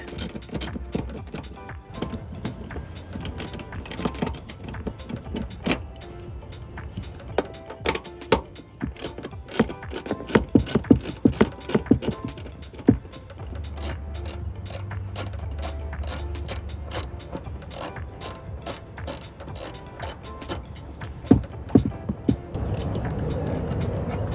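A ratcheting hand tool takes out the bolts holding down the jack under the rear seat of a 2019-2022 Silverado or Sierra 1500 truck, clicking in rapid close-up bursts with brief pauses and metallic clatter.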